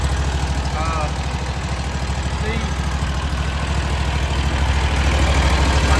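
The engine of a new hydroseeder, just started with a jump box and exhaust working, idles with a steady low throbbing drone throughout, with a brief voice over it.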